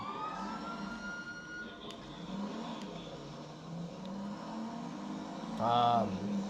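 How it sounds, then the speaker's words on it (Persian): Police car siren in GTA V wailing amid city traffic and engine noise, with a sharper, louder siren burst near the end. "مثلا آژیر زدم اصلا هیچ کاری نمی کنم"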